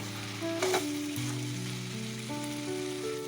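Bora fritters and potatoes frying in a pan of spiced masala, a steady close sizzle and crackle with a brief stir near the start, no talking.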